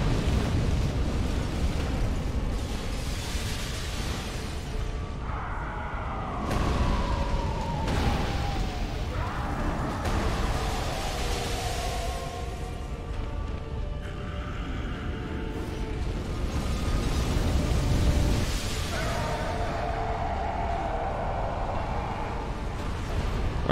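A Dark Souls 3 boss unleashes fire explosions that roar and crackle continuously at steady loudness, with repeated surging blasts layered over a constant dense rumble and no speech.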